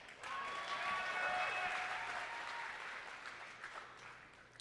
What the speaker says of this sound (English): I also want you to give yourselves a round of applause.